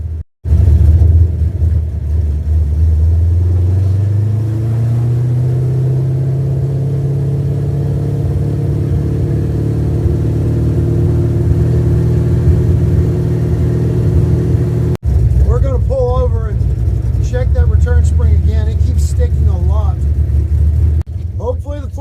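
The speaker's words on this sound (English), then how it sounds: "The throttle just is sticking it wide open at all times." An old car's engine, parked since 1999, roars loudly with its throttle stuck wide open, a sustained rising rev that holds steady before cutting out briefly, then continuing under a voice.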